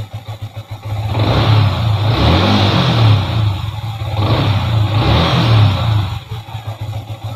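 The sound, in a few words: motorcycle engine revving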